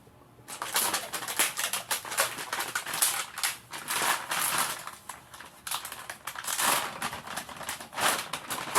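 A plastic bag is rummaged through close by, producing irregular bursts of crinkling and crackling that come and go for several seconds.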